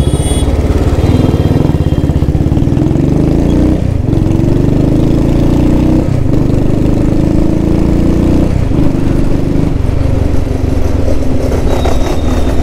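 A Royal Enfield Thunderbird motorcycle engine runs close and loud, a steady thumping idle with a few brief blips of throttle.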